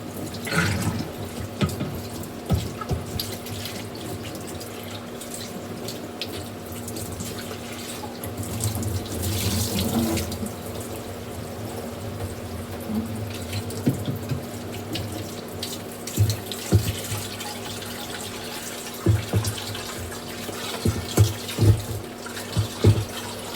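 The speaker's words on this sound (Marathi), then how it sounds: "माठ भरतोय आता पाणी." Tap water runs steadily into a clay pot for a long stretch, a continuous close stream with occasional clinks and splashes.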